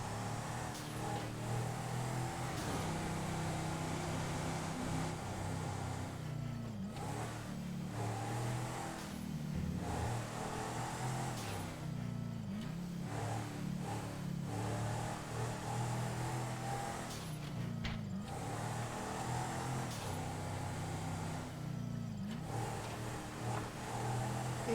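A car engine in GTA V, sounding rough, revs and accelerates repeatedly, with rising and falling pitch sweeps in several bursts over a steady engine drone, fairly loud and with no talk.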